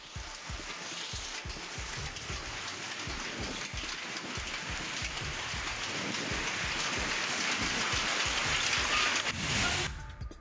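Unseasonal rain with hail falling in Raver taluka, Jalgaon district: a continuous, fairly faint downpour hiss with a run of soft, regular low thuds of drops striking a surface, heard alone.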